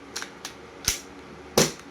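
A few sharp pops, one faint pair then two louder single shots, spaced unevenly with quiet gaps, from a G18 airsoft gas pistol firing close by.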